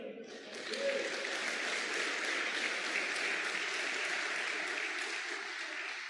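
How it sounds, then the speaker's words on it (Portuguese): A church congregation applauds during a celebration worship service. The clapping starts softer, swells after about a second, then continues as a dense, even wash of many hands through to the end. "Você pode aplaudir o Senhor?"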